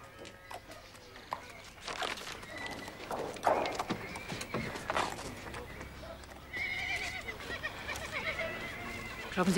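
Horses neigh and whinny repeatedly at close range while hooves clop on hard ground, the calls and steps coming in irregular bursts over a quiet background.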